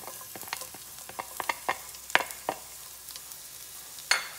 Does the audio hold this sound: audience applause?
no